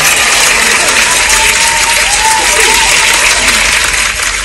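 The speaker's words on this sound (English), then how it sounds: "let me get Jamila a round of applause." A crowd applauds loudly and without a break from start to finish, dense clapping close by with some voices mixed in.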